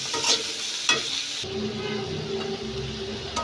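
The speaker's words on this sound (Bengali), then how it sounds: "এবার দিয়ে দিব টমেটো কুচি আর কাঁচামরিচ, দিয়ে একসঙ্গে ভালো করে কষিয়ে নেব" Chopped tomato and green chilli hit hot oil in a pan for a vegetarian potato curry, sizzling steadily and close while a spoon stirs and scrapes through them.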